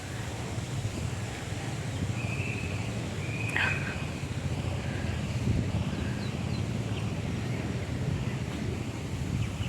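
Steady outdoor wind rustling and buffeting during a morning walk, a continuous soft broadband wash with brief faint chirps, no talking.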